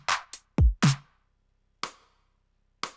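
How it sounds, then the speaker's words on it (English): Sparse drum hits from a stem, with a booming kick carrying a gritty bit-crushed top end, among a few sharp snare and hat strikes, dry and isolated with silent gaps between. "There's a bit of bit crushing on the top end of the kick there, you can hear."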